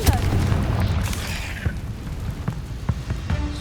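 A Confringo blasting curse exploding in the Hogwarts Legacy video game, a loud low boom at once followed by scattered crackling debris and smaller thuds.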